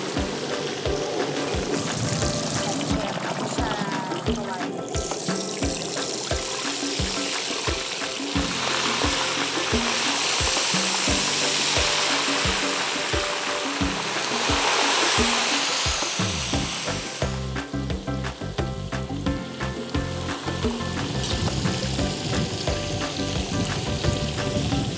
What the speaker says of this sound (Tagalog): do-double fry lang natin siya para lang may ekstrang lutok yung ating mga ulang